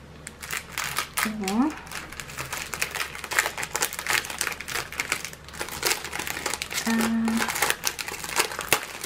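Paper packaging around a PaintSomeWay paint product is crinkled and torn open in repeated close, scratchy bursts, with a voice heard briefly in between.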